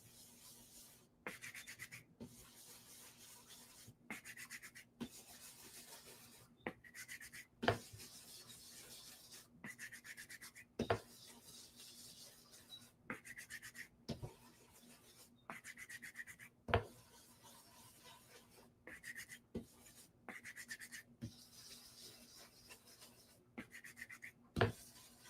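Repeated soft rubbing strokes on paper while blending, each short swipe separated by brief pauses, with occasional sharper taps; faint and close, no talking.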